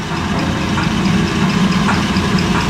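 A FENN Model 3F rotary swager motor runs steadily with a low, even mechanical hum and rumble, a close, constant drone and no talking.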